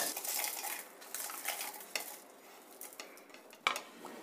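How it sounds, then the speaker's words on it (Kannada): Dry coconut and roasted chutney-powder ingredients, dill leaves among them, rattle and clink as they are tipped into a steel mixer jar, a series of close, quiet scrapes and taps with no talking. "ಈಗ ಮಿಕ್ಸರ್ ಜಾರಲ್ಲಿ ಒಣಕೊಬ್ಬರಿ ಮತ್ತು ಹುರಿದಿಟ್ಕೊಂಡಿರೋ ಎಲ್ಲ ಇಂಗ್ರೀಡಿಯೆಂಟ್ಸ್ನು ಹಾಕ್ತಾ ಇದ್ದೀನಿ."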